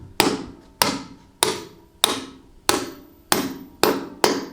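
Eight loud, evenly spaced hammer blows ring out close by as lift anchors for a two-post Atlas car lift are driven into a concrete shop floor, each strike sharp and decaying before the next.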